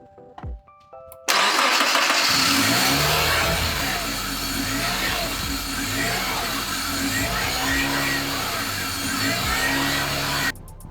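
A Honda Accord with a K-series engine cranks after a few faint clicks, catches and settles into a steady, loud idle that continues close by until it abruptly cuts off.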